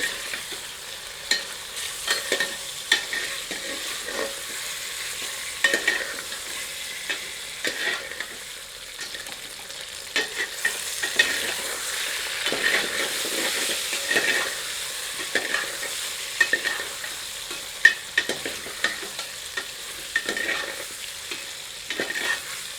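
Chicken stir-fried in a pan over medium heat for Rajasthani red chilli murgh, with a steady sizzle broken by repeated scraping and stirring knocks, loud and close, and no talking.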